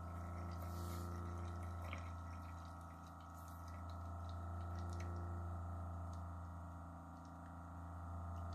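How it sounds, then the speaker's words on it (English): A Mr. Coffee BVMC-SC500-2 K-cup single-serve coffee maker runs its pump and brews, giving a steady low electric hum with faint trickling and ticking water sounds, fairly quiet and alone. "It's kicked on the pump and it's starting to brew."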